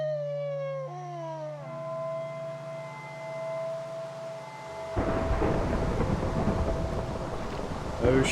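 Rain and thunder in the Minecraft mod Better Than Wolves on a full-moon night: game tones and a howl come first, then a loud, steady wash of rain takes over for the rest.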